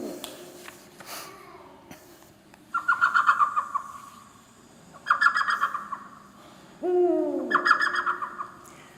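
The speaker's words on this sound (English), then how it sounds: "The elf owl is one of the 2 smallest owls in the world." An elf owl, one of the two smallest owls in the world, gives three bursts of rapid, high, chattering hoots, each about a second long, clear and fairly close over a quiet background with a few faint clicks between calls.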